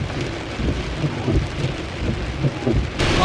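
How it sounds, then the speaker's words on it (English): Rain falls steadily on a Tesla driving along a wet road, a dense pattering hiss with low rumbles underneath and no talk. "This is a little heavier than it's just drizzling, and the road's definitely wet now"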